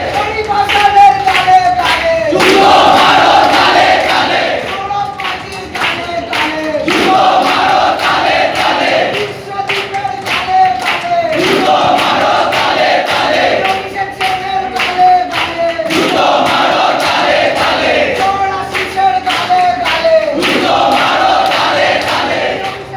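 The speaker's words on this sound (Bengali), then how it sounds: "অভিযুক্তদের দেখা মাত্র জুনিয়র চিকিৎসকেরা রীতিমতন ক্ষোভে ফেটে পড়েন। তারা স্লোগান দিতে থাকেন।" A crowd of junior doctors chants slogans angrily in repeated rhythmic bursts, loud and close, with shouting and some clapping between the chants.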